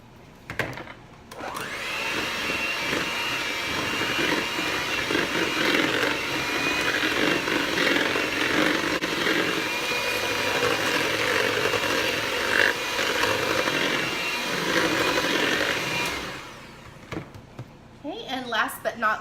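Electric mixer whirring through mango cupcake batter, a steady buzzing drone lasting most of the stretch with slight shifts in pitch, close and fairly loud, ending as the motor stops.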